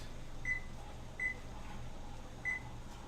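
A kitchen timer set for fifteen minutes while a chocolate pie filling cooks on the stove gives three short, clear beeps at uneven intervals over a low steady hum.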